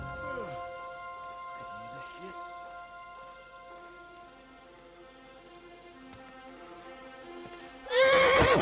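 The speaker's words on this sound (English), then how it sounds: "O cavalo saiu do sítio, assustou-se." Horse in the video game Kingdom Come: Deliverance 2 spooks and neighs repeatedly, whinnies over a sustained musical score with hoof clops, ending in a loud, shrill burst of neighing.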